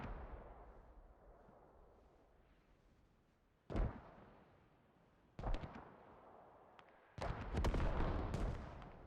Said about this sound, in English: That's a ranging shot on the artillery strike.